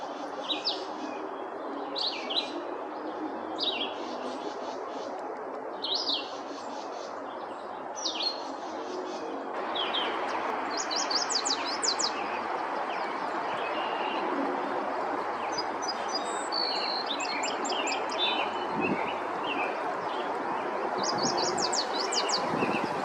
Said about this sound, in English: A red-eyed Vireo and a yellow warbler were both calling out.